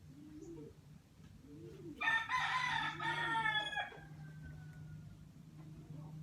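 Pigeons in a racing pigeon loft coo softly and repeatedly in a low rhythmic murmur over a steady hum, while a louder bird call bursts in near the middle for about two seconds and then fades.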